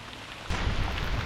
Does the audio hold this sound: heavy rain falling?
yes